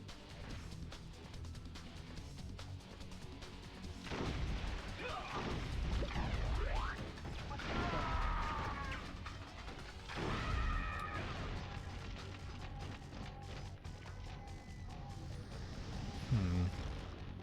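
Enemies open fire in the Metal Arms video game, with loud crashing, whacking impacts and whooshing bursts scattered through busy game action, some hits sharp and close amid a constant rumbling background.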